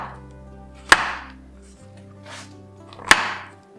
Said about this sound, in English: In the meantime, I'm going to cut portobello mushrooms